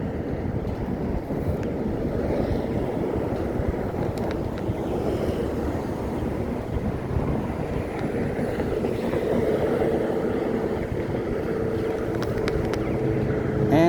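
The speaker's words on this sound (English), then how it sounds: "I know you can hear the cars loud." Traffic rumbling past on a busy main road, heard as a continuous rough low roar with engine and tire noise swelling and fading. Occasional clicks and handling knocks sit near the microphone, and no one speaks.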